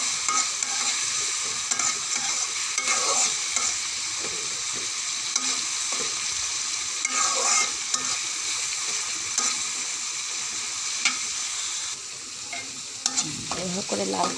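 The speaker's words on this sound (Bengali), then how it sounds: "চিংড়ি মাছ দিয়ে ভালো করে নেড়ে চেড়ে নিতে হবে, লাল লাল করে নিতে হবে মাছটা" Shrimp stirred and fried in a pan for a radish-greens dish: a constant, close crackling sizzle with repeated spatula scrapes and light clinks throughout, easing slightly toward the end.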